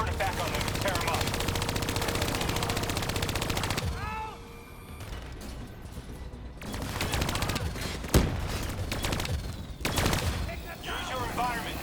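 Hijacked turrets in Call of Duty: Black Ops 3 open fire with sustained rapid automatic bursts that stop and restart, mixed with in-game battle noise.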